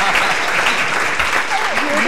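Studio audience clapping on a Hindi comedy show, a dense steady burst of applause lasting about two seconds, loud and close, with a faint voice showing through near the end.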